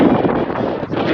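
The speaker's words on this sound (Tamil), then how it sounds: "காற்று அடிக்குது பயங்கரமாக அப்படியே" A strong sea wind at Kanyakumari roars steadily across the microphone, loud and close, with a brief dip before surging again.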